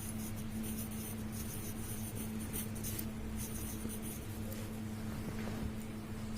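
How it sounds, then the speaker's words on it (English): Chalk or marker writing a sentence on a classroom board, a soft continuous scratching with small strokes and taps over a low steady hum. "So we will write down this sentence here."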